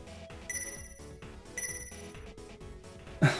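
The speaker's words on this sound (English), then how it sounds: "Even my ringtone is starting to tick me off." Phone ringtone in the DRAMAtical Murder video game, a repeating electronic melody with bright tonal bursts in a steady rhythm, moderately loud, ending with a sharp click.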